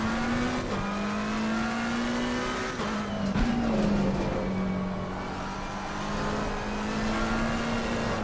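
Race car engine from a GT3 car in Assetto Corsa Competizione, droning steadily and loudly for several seconds with slight shifts in pitch and one sharp jolt near the middle, with no voices.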